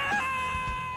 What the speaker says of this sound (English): The pit death scream.